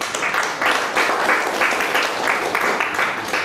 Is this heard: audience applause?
yes